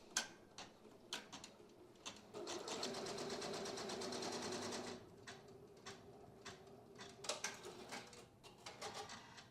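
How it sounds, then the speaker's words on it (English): A machine embroidery unit stitches felt design details in its hoop, giving a fast, even mechanical whir of needle strokes for several seconds, framed by scattered clicks and ticks, faint and close. "Put the hoop back on the machine, and let's run all the fun details."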